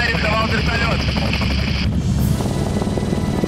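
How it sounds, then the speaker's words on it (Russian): A rented helicopter roars loudly and continuously with steady rotor thrum and wind rush, heard close up from the cabin in flight over Armenia. "а я арендовал вертолет"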